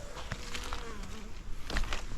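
Close buzzing of honeybees hovering around apiary hives on an unusually warm late-October day, with faint rustling and a few soft knocks in the background.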